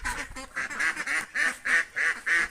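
Domestic ducks quack repeatedly while being chased and caught by hand, a run of loud, close, evenly spaced nasal quacks over a muffled, bustling background.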